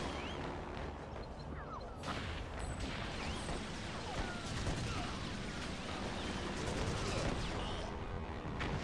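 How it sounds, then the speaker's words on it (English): Machine gun fire rattles in a PS2 war video game, dense continuous bursts and explosions forming a loud, unbroken battle din. "Rats, a machine gun nest."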